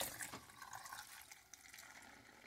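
Six ounces of gasoline poured into a Mr. Funnel fuel filter, a quiet liquid splash and trickle that settles into a softer steady flow over a couple of seconds, with no talk.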